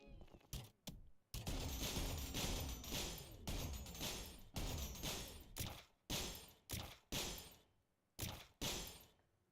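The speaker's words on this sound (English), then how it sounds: "The jump start, I presume, is the electric saw launcher." The electric saw launcher fires in the video game ULTRAKILL: a rapid series of harsh, crashing bursts, dense at first, then spaced into a steady rhythm of sharp shots.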